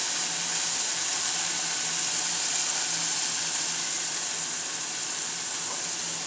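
Chicken wing pieces and beans fry in masala with a constant, loud, even sizzle and hiss, close and alone with no voices.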